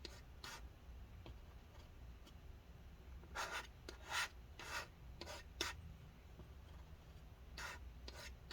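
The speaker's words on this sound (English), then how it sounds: "I'm gonna take the extra rubbing alcohol from here and just get it all over the residue" Adhesive residue scraped up with rubbing alcohol inside an early 2013 15-inch MacBook Pro A1398 during a battery replacement, a quiet series of short scratchy rasping strokes with brief pauses over low background hum.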